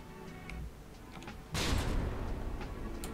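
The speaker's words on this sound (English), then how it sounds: "now you see the first volley flying up in the sky there" CRAM mortar volley fired in the video game From the Depths: a sudden loud booming burst halfway through, then a sustained rumbling roar over a quieter mechanical ticking background.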